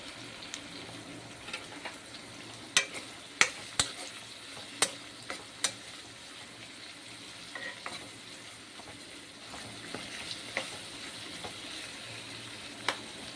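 Tomatoes and vegetables sauté in a home kitchen pan with a low steady sizzle, while sharp scattered clicks of a spoon stirring against the pan pop up through the quiet frying, no voices.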